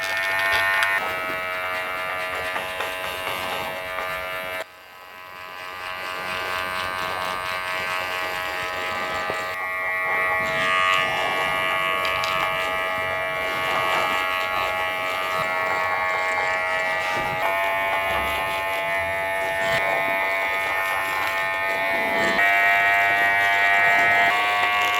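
Electric hair clippers buzz steadily through a men's curly haircut, a close, continuous tonal hum with a brief dip near the start and slight shifts in pitch as the cutting continues, with no talking.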